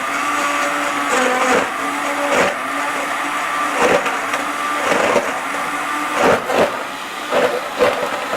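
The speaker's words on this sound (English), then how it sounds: "So we just jerk the blender." A pull-started blender runs in a steady, loud whir with rough grinding, broken by several short dips and surges as the load shifts, with no talk over it.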